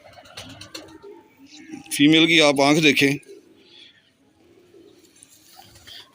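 A female Ferozpuri pigeon gives a loud, close, wavering coo lasting about a second, set between stretches of someone talking nearby.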